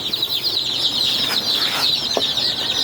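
Day-old chicks packed into a heated brooder chirp constantly, a dense, steady chorus of high peeping with no pauses, fairly close and loud.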